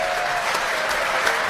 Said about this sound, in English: And the wealthy crowd goes wild.